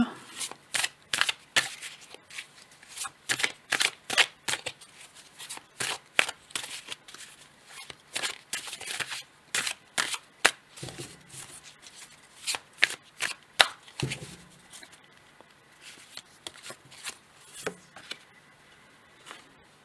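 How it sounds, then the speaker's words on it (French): Dixit cards are shuffled by hand in repeated quick riffling bursts, crisp close-up flutters coming in uneven clusters over nearly twenty seconds. "Je vais tirer une carte du Dixit pour le second choix."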